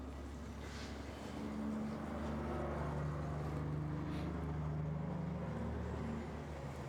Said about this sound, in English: Hear a truck hauling corn coming.